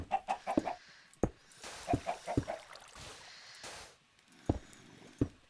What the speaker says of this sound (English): I'm pretty sure the chickens are going to come for a swim.